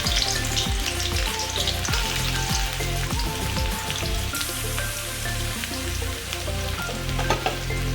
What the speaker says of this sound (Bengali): তেলের মধ্যে পেঁয়াজ কুচিগুলো ছেড়ে দেবো